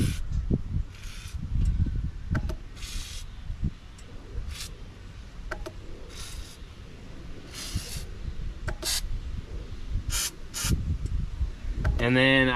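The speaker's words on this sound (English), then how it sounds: "We're gonna spray all of this linkage stuff with some lubricant." Lubricant is sprayed onto the linkage of a 1959 Plymouth Savoy with the engine shut off, in a series of short hissing bursts between handling and rustling noises, ending with a brief squeak.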